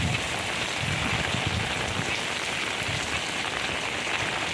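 Steady, dense rain pattering on a surface, a continuous even hiss with no pauses and no voices.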